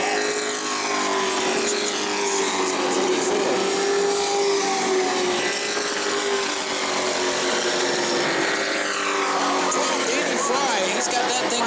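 Sportsman stock cars racing at New Smyrna Speedway, engines wound up in a sustained high-pitched howl that rises and falls slightly as they pass, with race commentary talking over the noise.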